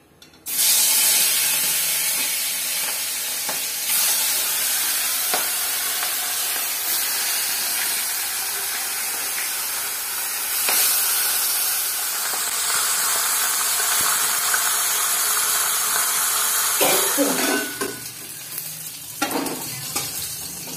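Food frying crisp in hot oil sizzles loudly and steadily up close for most of the stretch, with spattering hiss and stirring, then fades to intermittent knocks and sizzles at the end.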